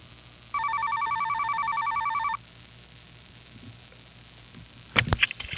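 Telephone ringing with a single electronic trilling ring burst lasting under two seconds as a caller dials into a live show, followed by quiet and then a short clatter of handling.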